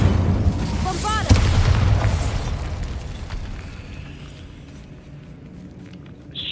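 A Bombarda blast spell goes off in the video game Hogwarts Legacy, one sharp boom followed by a crackling, rumbling decay that fades over several seconds, with a brief voice beneath.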